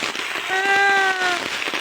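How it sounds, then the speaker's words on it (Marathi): Rain falls steadily around an outdoor wood-fire clay stove on a mountainside, a continuous broad hiss with a raised voice briefly sounding over it. "पाऊस बघा मित्रांनो"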